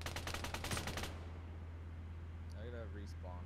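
A machine gun in a video game fires a rapid, loud burst for about a second, then cuts off to a quiet background with a few faint electronic tones.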